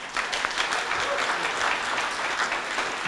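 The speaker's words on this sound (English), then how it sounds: "please, a warm round of applause in his final public appearance" A ceremony crowd at the SFO Terminal 1 renovation groundbreaking applauds a retiring airport director, with brisk, fairly close clapping from many hands throughout.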